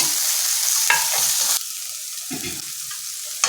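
Green chili paste made from about three chilies is stirred into onions frying in a pan while preparing a cluster beans fry. A steady hiss of sizzling oil runs throughout, with a spoon scraping and stirring at close range.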